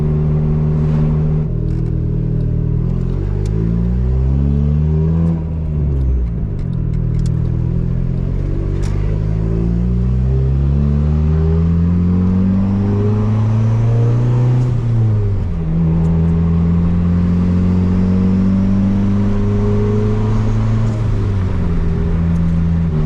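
Turbocharged Honda Civic driving on back roads, its engine droning steadily near and loud with pitch rising through gears and dropping at each shift, repeated acceleration cycles under continuous road and tyre noise.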